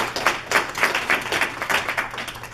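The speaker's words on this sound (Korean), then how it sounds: "여러분 뜨거운 박수 부탁드리겠습니다" Audience claps at a Korean business association inauguration ceremony during a certificate presentation, a moderate burst with audible individual claps pulsing in an uneven rhythm.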